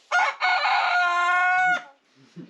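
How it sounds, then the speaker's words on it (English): A rooster at a backyard chicken coop crows loudly and close, a long strained call following a short initial burst, with softer clucking and scratching noises trailing after. "reporting from the coop where Wobbles is boss. And there's one chicken here sitting on eggs"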